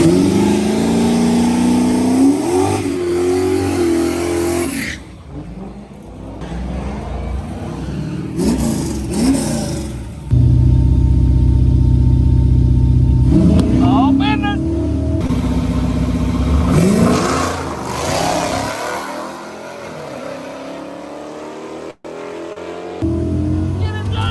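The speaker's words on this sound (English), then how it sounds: "What a drag race!" A Dodge Demon's engine roars and revs hard during a drag race, loud and sustained with rising and falling surges and a brief quieter gap, heard over a device with voices around it.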